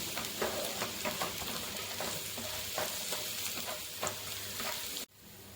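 Ingredients for a Kochi-style prawn curry being sautéed in a pan until golden brown, a steady sizzle broken by scraping stir strokes, close up and with no talk, ending abruptly near the end.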